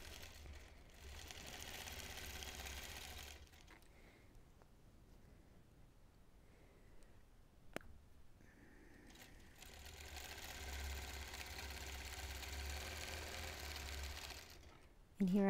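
A longarm quilting machine stitches while basting the edge of a quilt, giving a steady mechanical whir that pauses midway and then resumes, with speech heard along with it.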